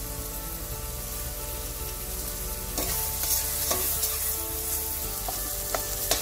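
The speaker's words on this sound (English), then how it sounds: "We're going to keep frying our onions." Steady sizzling of onions frying in a pan, with occasional louder crackles and pops of spattering oil, close by and continuous.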